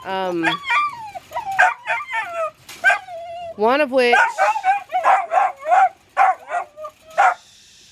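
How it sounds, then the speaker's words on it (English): Several puppies bark and yip in rapid, high-pitched bursts close by, overlapping with a person speaking briefly. "Out of 9 puppies, we have 5 left, and they're very loud."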